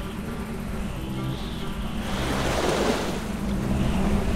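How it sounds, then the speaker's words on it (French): Wind rushes through a tunnel in an animated cartoon, a steady, broad hollow roar that swells and grows louder partway through, with no talk over it. "qu'est-ce qu'il y a comme vent dans ce tunnel?"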